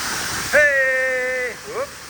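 A car wash pressure washer spraying soap produces a loud, continuous rushing hiss that fills the whole stretch. A voice calls out over the spray.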